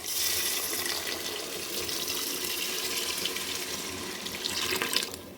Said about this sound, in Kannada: ನಾನು ಎರಡು ಚಮ್ ನೀರು ಹಾಕ್ತಾಯಿದ್ದೀನಿ